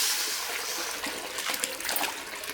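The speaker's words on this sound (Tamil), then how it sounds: "ரசத்துக்கு எல்லா பொருளுமே சேர்த்தாச்சு அப்படியே ஊற்ற வேண்டியதான்" Tamarind rasam pours into a pan in a home kitchen with a steady, close liquid trickle and splash that grows slightly busier toward the end.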